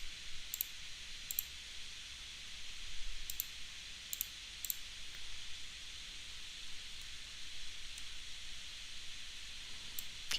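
Calculator keys are pressed during math work, giving a handful of faint, sharp clicks spaced irregularly over a steady background hiss.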